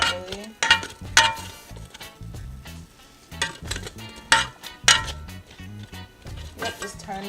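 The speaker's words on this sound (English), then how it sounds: "I'm just going to turn them to make sure that they're all cooked through properly" Jerk chicken meatballs turned inside an air fryer basket make repeated close clinks and scrapes of utensil on metal, in irregular bursts with faint sizzling between.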